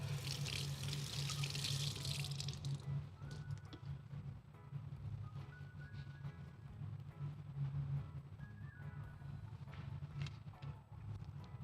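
Ackee being rinsed under a running kitchen tap: a steady splash of water for about three seconds, followed by quieter background with faint clinks and small handling noises.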